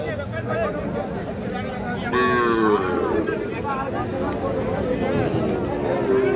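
Sahiwal bull calves moo at a busy cattle market, one drawn-out call rising clearly over a steady babble of nearby voices and crowd noise.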